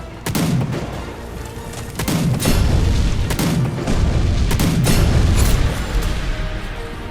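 Booming cannon blasts in the video game Warlander go off several times at irregular intervals, loud and sharp with rumbling tails, amid continuous army battle noise.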